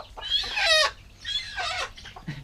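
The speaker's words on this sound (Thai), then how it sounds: "โอ้ไก่เหลืองงามอีหลี" A yellow farm chicken clucks and squawks nearby at a rice-field hut, two drawn-out rasping calls followed by a shorter cluck, loud and close with no talking over it.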